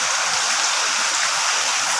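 Steady rain falls, a dense even hiss of drops that runs the whole way through without pause, with no voices.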